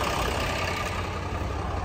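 A 5-ton three-axle Mega Truck cargo truck from 2009 idles steadily with a constant low rumble and hum, close by and unchanging throughout.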